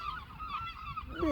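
Geese honking noisily outdoors, a dense run of overlapping nasal calls filling the clip at moderate loudness, with a louder honk rising near the end.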